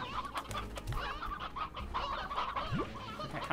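Stubby hens in the video game Slime Rancher cluck and squawk in quick, uneven bursts over a busy game background, close and fairly loud with overlapping calls.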